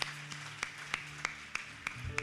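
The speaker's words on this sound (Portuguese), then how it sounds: "Denise, vamos aplaudir o senhor para a vida da Denise" Applause from a church congregation during a celebration service, sparse rhythmic claps landing at a steady pace, fairly faint and slightly distant.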